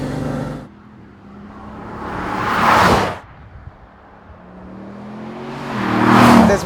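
A Bugatti Veyron Vitesse sweeps past twice, each pass swelling to a loud rushing engine roar and then fading, with a quieter stretch of engine hum between them.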